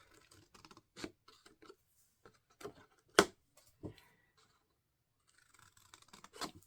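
Scissors cut a section of paper for a mini brag book, giving sparse, quiet snips and crisp paper rustles in irregular bursts, with one sharper cut standing out midway.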